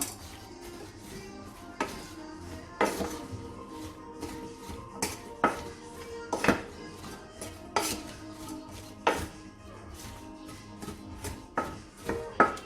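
A spoon stirs spiced onion for Moroccan couscous in a metal pot, giving irregular clinks and scrapes against the pot's sides with short pauses between strokes.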